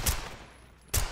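Two sharp, loud 9mm PM pistol shots in Black Ops 6, spaced about a second apart, each with a brief decaying tail.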